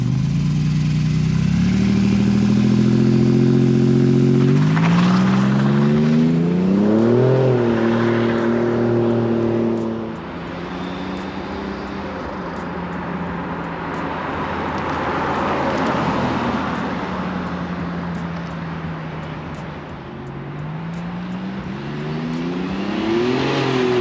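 A 1987 Buick Grand National with a big turbo engine idles loudly outside, then revs up in several rising and falling sweeps, settling back between pulls, with no talking.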